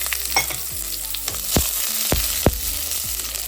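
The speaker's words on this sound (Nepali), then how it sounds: "यसरी प्याज भुटिसकेपछि" Chopped onion frying in hot oil with fenugreek seeds, cumin and bay leaf for a Nepali-style vegetable thukpa, a steady close sizzle broken by a few sharp spatula scrapes and clinks against the pan.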